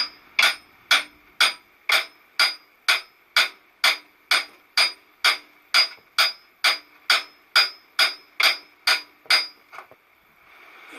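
A hammer strikes a stove bolt being driven through hard oak, about twenty sharp, evenly spaced blows in a steady rhythm, close and loud, with no talking.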